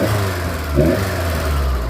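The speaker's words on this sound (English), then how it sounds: "Yeah, that rattle on the lifters" A classic car engine idles steadily with a light lifter rattle, the low running tone continuous and close throughout, with no one talking over it.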